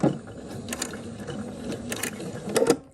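A sewing machine stitching quilt binding, running in short, quiet mechanical bursts with rattling needle clicks and pauses between runs of stitches.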